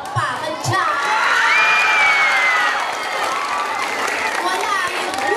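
A crowd at a gay beauty pageant night cheers and shouts loudly, with high-pitched whoops and screams and some clapping underneath, sustained and close throughout.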